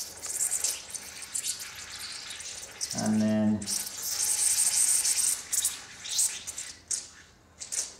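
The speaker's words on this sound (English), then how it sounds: "Get a bit of air, bubbles, see that water there" Air and water hiss and spit from the bleed valve of a radiator on a Worcester Bosch boiler system, a steady close sputter that swells and fades over several seconds, with someone talking briefly.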